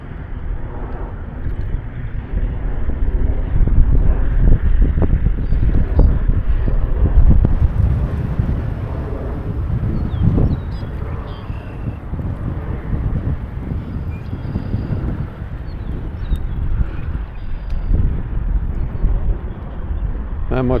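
Strong wind buffeting at Harrier Lake in Illinois, a loud continuous low roar with gusts rising and falling throughout, rumbling heavily against the microphone.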